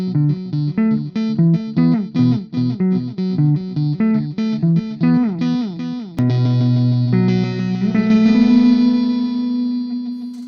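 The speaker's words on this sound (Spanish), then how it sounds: "Ahora venimos al lo-fi. Se supone que las repeticiones tienen un sonido chungo." A Donner Island Delay guitar pedal in lo-fi mode plays a rhythmic run of plucked electric guitar notes, then a sustained chord whose repeats sound murky and degraded, loud and alone with no talking.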